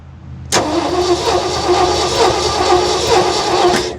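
A Ford F600 dump truck's engine catches after a brief crank and runs unevenly, trying to settle into idle, close and fairly loud with a slightly surging rumble and no talk.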